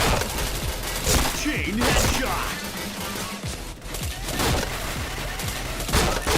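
Bursts of rapid gunfire and single shots crackle from the online shooter game Point Blank, loud and repeated throughout, while a player talks over the action.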